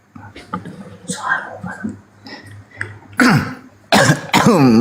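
Harsh coughs and throat clearing from a man, several bursts spread unevenly and closely miked, growing louder and more forceful toward the end, with speech between them.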